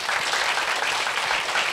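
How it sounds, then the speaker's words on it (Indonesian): Applause from an audience at the opening ceremony of the Dr. Mochtar Riady Legal Week 2023, a dense, steady wash of clapping hands throughout, loud and close. "Mari kita berikan tepuk tangan yang meriah."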